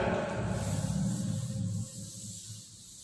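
Steady rubbing swish of a board being erased in a maths classroom, continuous broadband scraping that softens after a couple of seconds, close and alone with no talk.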